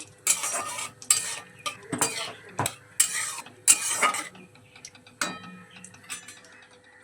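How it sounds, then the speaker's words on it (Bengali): Asafoetida frying in a pan while a metal spatula stirs it, sharp scraping and clattering strokes in uneven bursts with brief pauses, close and fairly loud, faint sizzle beneath, no voices. "একটু নেড়ে চেড়ে দেব"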